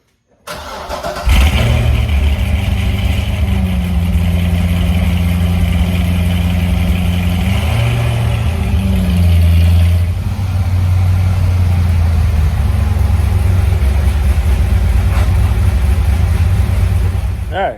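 Chevrolet Corvette C6 Z06 engine cranks and fires up, then settles into a loud, steady idle close by for about sixteen seconds, with a slight drop in tone partway through.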